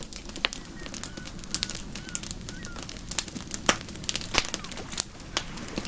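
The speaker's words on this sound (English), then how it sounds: "when you hear a fire crackling in the distance?" A fire crackles some distance off, with scattered sharp pops and snaps over a low rumbling bed, while birds chirp faintly in the background.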